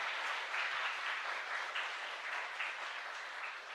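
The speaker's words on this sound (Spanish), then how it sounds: "Fuerte aplauso para el Señor." A congregation at Mass in the Divino Niño Jesús chapel in Ypané applauding, steady dense clapping from many people at a moderate distance throughout.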